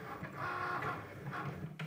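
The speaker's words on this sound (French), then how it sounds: "Je vous laisse regarder la machine travailler" A Cricut cutting machine works close by, giving a steady mechanical whir with humming motor tones and small shifts in pitch as it moves, with no voices.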